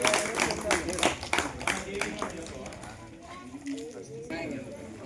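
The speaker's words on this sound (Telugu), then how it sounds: "క్లాప్స్ కొట్టండి పిల్లలు." Schoolchildren clap at a prize announcement for kabaddi winners at a primary school, a burst of fast, close applause in the first half that thins out as a voice speaks over the end.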